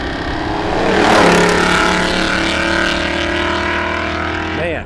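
A car accelerating hard from a standstill in a 0 to 60 run, its engine revving loud and close as the rising pitch climbs and holds for several seconds.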